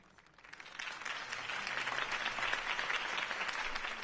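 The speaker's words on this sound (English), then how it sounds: "If only Mr. Wayne, my campaign's largest backer, could have heard that applause" Crowd applause following a campaign speech in the Batman Telltale video game, swelling from quiet to a sustained, dense clapping that holds steady at moderate loudness.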